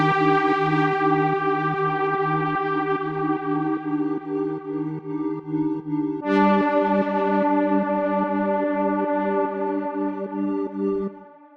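Layered synth chords in a produced hip-hop beat, sustained bright harmonic tones pulsing under a steady rhythmic pattern, thickening and brightening midway with an anthemic, epic swell, loud and alone without voices.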